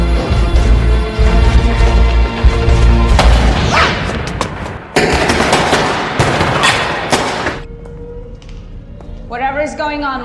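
Gunfire and explosive booms during a shootout in an action film, loud and dense in bursts over a thick music-and-effects mix with people talking, dropping away near the end.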